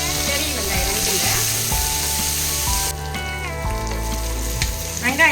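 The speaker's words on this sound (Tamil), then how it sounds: "பெரிய வெங்காயம் வணக்கிங்க." Large onions sauté in hot oil in a pan with a continuous loud sizzle and frequent scraping stirs of a spatula, while a person speaks over the cooking.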